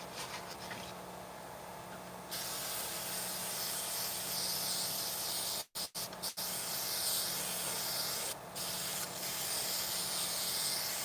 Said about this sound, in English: for this, I'm using the Harbor Freight Quick Change airbrush.